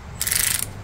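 Ratchet wrench fitted with a 40 millimeter socket, working on a Subaru Outback during a rear brake job, gives one quick, close burst of clicking.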